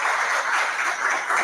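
An audience at a book pre-launch event applauds a speaker, with steady, dense clapping from many hands filling the room, close and fairly loud with no pauses.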